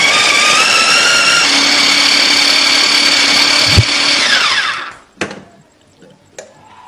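A food chopper whirs loudly and steadily as it grinds a coarse spice paste, then winds down and stops, followed by a few clattering knocks of the container and lid.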